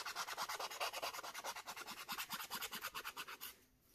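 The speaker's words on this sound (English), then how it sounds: "Let's give that a quick little sand as well." Sanding a resin ocean-wave coaster by hand, giving a fast, steady rhythm of rasping back-and-forth strokes, close and fairly loud, that stops abruptly near the end.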